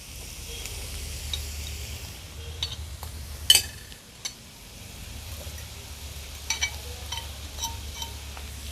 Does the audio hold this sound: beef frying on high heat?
yes